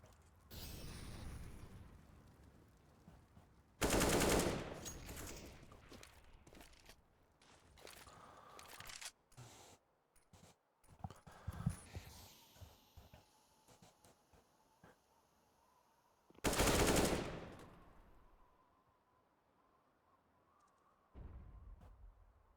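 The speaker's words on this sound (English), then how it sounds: "Stahl wasn't able to see that he was getting shot in the back there by Viking" Gunfire erupts in a competitive shooter match as two sharp, loud bursts of shots stand out against quieter in-game footsteps and movement. The bursts are separated by long, subdued stretches.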